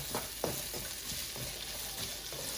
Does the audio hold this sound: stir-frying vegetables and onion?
yes